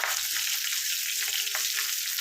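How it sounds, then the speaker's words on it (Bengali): A fish head fries in hot oil with a loud, continuous sizzle and bright spattering crackles, heard close and without any voices. "খুব ফাটছে বলে 2 হাত দূরে দাঁড়িয়ে আছি"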